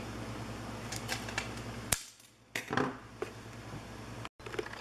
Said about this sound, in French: c'est assez facile à couper avec un petit cutter